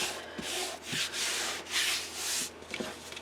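Fabric pressed onto a mini album cover is rubbed by hand in several quick, scratchy back-and-forth passes, close and clear, with short pauses between strokes and no talking.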